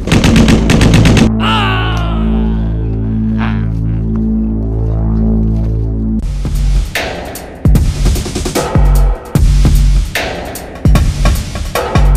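Loud bursts of machine-gun and rifle fire rattle in a Bangla telefilm action scene, following a long, droning low hum, then rapid clustered volleys with brief gaps.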